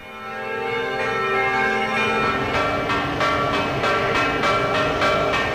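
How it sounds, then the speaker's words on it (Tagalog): Church bells across the Philippines ring loudly and repeatedly in unison for Pope Francis's arrival, over a dense, washing background of overlapping tones, with rhythmic strikes building as the peal continues. "Sabay-sabay ring pinatunog ang mga kampana sa mga simbahan sa buong Pilipinas"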